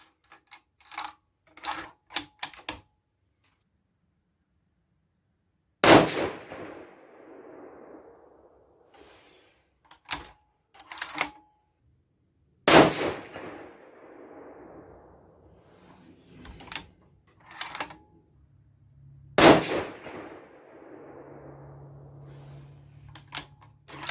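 Sharp rifle reports from a 6.5 PRC Bergera B14 firing single-fed hand loads at the lowest charge, three loud separate cracks spaced several seconds apart, each ringing out into a long decaying echo, with small handling clicks and taps between shots.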